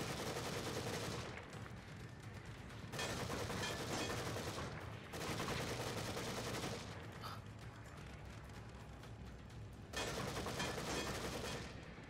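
Rapid gunfire bursts in the horror video game The Evil Within, fusillades of fast shots arriving in several long stretches separated by brief quieter pauses, moderately loud with no talking.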